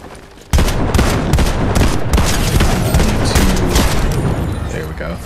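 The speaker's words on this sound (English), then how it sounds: "They sure are shooting a lot." Fortnite gunfire rattles nonstop in a dense, loud barrage of overlapping shots and bursts that continues for several seconds, with a voice talking over the shooting.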